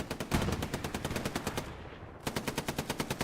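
Machine gun fire in the World War II shooter Hell Let Loose hammers out fast, evenly spaced rounds in a long burst, breaks off briefly, then resumes with another rapid volley, loud and without talk.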